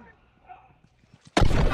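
A single loud sniper rifle shot in The Last of Us cracks abruptly near the end, after a quiet stretch of faint game sounds and low voices.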